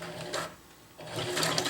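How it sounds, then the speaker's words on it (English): A sewing machine stitches through nylon webbing by a tri-glide buckle, a close, steady whirring run that pauses briefly in the middle before starting again. "I just want to sew the part with the end of the webbing that's on the inside of the tri-glide"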